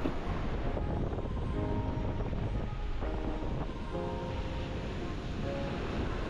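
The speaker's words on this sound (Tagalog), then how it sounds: "Parang nakakatakot kasi ang lakas po ng alon." Heavy surf roars continuously, loud and close, on a beach in Lubayat, Quezon, with wind buffeting the microphone throughout.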